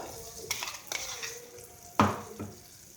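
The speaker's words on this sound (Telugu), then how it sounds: "ఈ విధంగా పచ్చడి అంతా పోపుకి పట్టేలాగా ఈ విధంగా కలుపుకోవాలండి" Ground onion chutney is stirred into hot tempering with a pinch of turmeric in a pan, giving a soft sizzle with several sharp scraping stirs, the loudest about two-thirds through, close and without talk.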